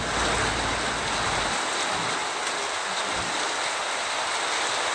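Heavy rain falls in the Thanjavur area around Keezhavasal, Punnainallur and Sengipatti, a dense, continuous hiss that stays loud and even throughout with a low rumble underneath and no voices.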